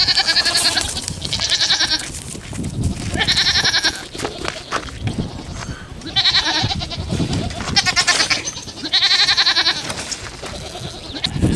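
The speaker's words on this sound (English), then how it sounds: "So I'm going to move these goats around" Several goats bleat loudly in repeated bursts while being moved around on a farm, their calls close and spaced every couple of seconds over rustling background noise.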